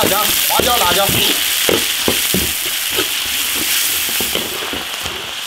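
Ginger, garlic, chili and Sichuan pepper stir-frying in a hot iron wok give a loud, steady sizzle, with sharp crackles and popping spatters throughout.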